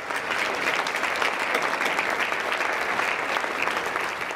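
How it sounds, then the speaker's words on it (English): An audience at a University of Florida awards ceremony breaks into sustained applause, a dense, even wash of many hands clapping from a large crowd, loud and continuous throughout. "A round of applause."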